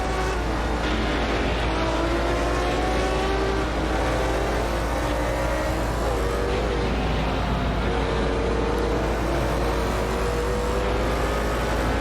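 Historic 1960s prototype race cars, including an orange McLaren, roar around Watkins Glen in a steady, loud wall of engine noise with rising and falling revs as cars pass close by.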